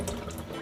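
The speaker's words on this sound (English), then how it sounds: "we run some cold water over it, kinda cool it down" Cold tap water runs over boiled saltfish, a loud, close, continuous splashing rush of water from the faucet across the whole short moment.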